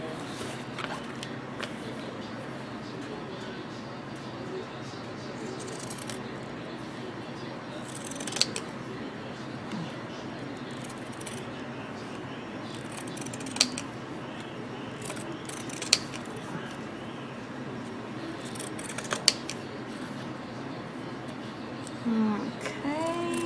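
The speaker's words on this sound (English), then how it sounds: "I'm going to cut this a little closer." Scissors cutting paper for a journal craft project, soft steady snipping and sliding blade sounds close by over a low background hum, with a few sharper clicks at intervals.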